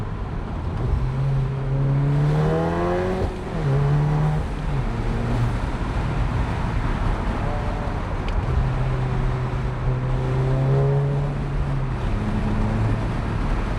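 A car drives with its windows down, rushing wind noise throughout, its engine rising and falling in pitch as it accelerates and shifts gears.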